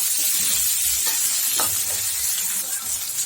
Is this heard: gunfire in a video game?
no